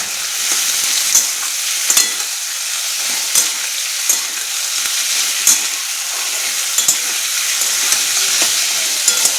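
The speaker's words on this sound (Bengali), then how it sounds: "আলু ভাজা" Potatoes fry in a pan with a steady, loud sizzling hiss throughout, punctuated by occasional sharper pops and crackles, close up and with no talking.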